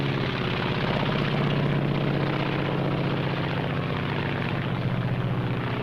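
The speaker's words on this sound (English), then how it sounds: "This is the Japanese Zero." Japanese Zero fighter aircraft with its propeller engine droning loudly and continuously, a steady rumbling roar with no breaks.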